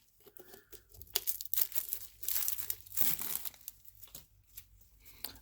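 Close crinkling and tearing as the thin plastic coating is peeled off a new tractor engine oil filter, coming in irregular bursts over several seconds with no talk.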